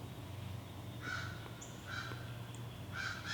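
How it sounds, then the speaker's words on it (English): A crow caws outdoors three times at spaced intervals, moderately distant and faint, over a steady low hum of room or background noise. "There's like a crow out there."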